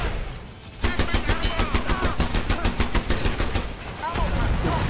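Sustained rapid automatic fire from a minigun in the shooter game Dirty Bomb, a dense loud mechanical rattle running nearly continuously after a short pause, with a voice talking over it.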